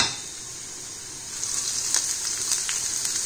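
Chopped vegetables sautéing in a pan over a high flame while making veg momo filling, a steady bright sizzle that grows louder partway through, with a few sharper crackles and pops.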